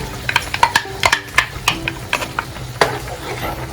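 Crushed tomato sauce with olives, garlic and anchovies for pasta puttanesca is stirred in a pan, with quick clinking utensil taps against the pan over a faint simmer.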